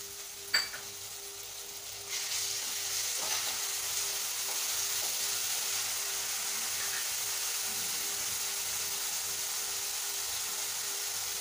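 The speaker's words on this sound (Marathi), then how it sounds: "टोमॅटोही हलकासा परतून घ्यायचा आहे।" Tomato and onion sautéing in a pan for mutton curry, a steady close sizzle that swells after about two seconds and holds continuously, with faint stirring scrapes and a light clink near the start.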